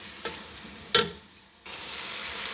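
Boiled chana dal is roasted in a pan, a soft sizzle broken by a couple of brief spatula clinks, then a louder steady frying hiss takes over near the end, close and without talk.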